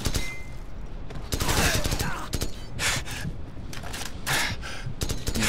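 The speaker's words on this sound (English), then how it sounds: "Shoot him through the wall." Rapid bursts of automatic gunfire in Call of Duty 4: Modern Warfare, dense and loud, with repeated volleys cutting through continuous battle noise and a player's voice talking underneath.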